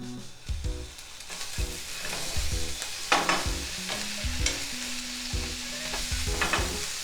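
Ginger and garlic frying in sesame oil in a heated pan, with a lively crackling sizzle and clattering stirring strokes, close and fairly loud. A steady low hum runs underneath and no one speaks.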